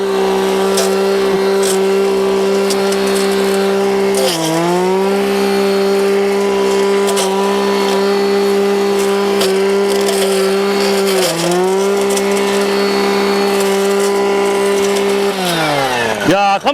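A Husqvarna 53cc engine brush cutter roars loudly and close, holding a steady high rev with a couple of brief dips as it bites into thick woody brush, then a final drop at the end.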